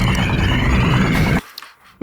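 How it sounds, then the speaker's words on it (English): A New York bus sound effect: a loud, broad engine rumble and hiss that cuts off abruptly, followed by a couple of faint clicks and a short burst. "That's the New York bus, straight from New York."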